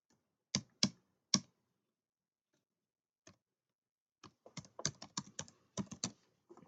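Password entered on a computer keyboard: three separate keystrokes, a lone tap, then a quick cluster of close, crisp clicks, with no talking.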